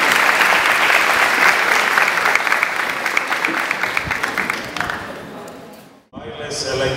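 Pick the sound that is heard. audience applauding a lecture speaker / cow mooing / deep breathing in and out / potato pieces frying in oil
audience applauding a lecture speaker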